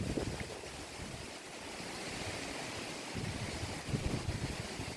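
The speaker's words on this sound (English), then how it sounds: "Don't know if you can hear that wind." Wind gusting through woodland, a steady broadband rush with surging swells and low rumbling buffets, no voices.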